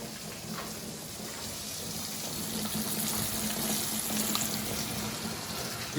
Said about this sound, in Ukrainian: Все, смажемо карася, як звичайно.